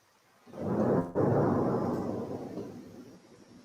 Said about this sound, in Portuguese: Só tá trovejando bastante.